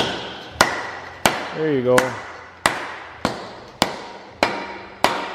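An Ergo axle is assembled by hammering its parts together to seat an O-ring. About eight loud, ringing metal strikes land at a slow, uneven pace, close by, and a voice speaks briefly between blows.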